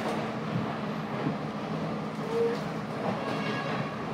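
Inside a train running from Nuwara Eliya to Ella in Sri Lanka's hill country, a constant low rumble of carriage and wheels rolls on with no voices.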